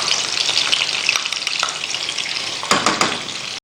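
Chopped garlic sizzling in a mix of oil and butter in a pan, a dense continuous crackle and hiss with a few sharper spatters and stirring scrapes near the end, close and loud, no speech.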